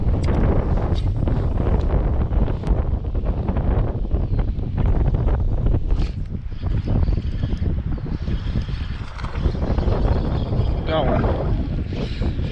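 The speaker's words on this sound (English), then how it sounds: "bunch of wind" Heavy wind buffets the microphone continuously outdoors on the water while fishing from a boat, a loud broadband rumble with faint background voices.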